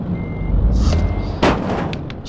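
A truck crashing in the game Euro Truck Simulator 2, with loud broadband impact bursts and crunching hits over a continuous low engine rumble and some short beeping tones.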